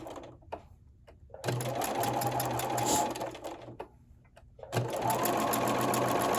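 Sewing machine stitching a quilt block, running in two loud sustained bursts with a low motor hum, separated by quiet pauses for lifting the presser foot and pivoting.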